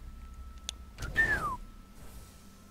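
A single short rising-then-falling whistle from an alien companion character in the Mass Effect game, preceded by a couple of faint clicks, heard alone at moderate level.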